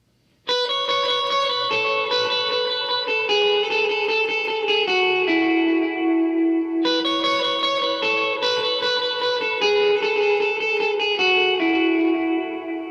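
An electric guitar imitating a mandolin, played through heavy effects, rings out in bright, shimmering tremolo-like notes, drenched in reverb and echo, continuous and loud.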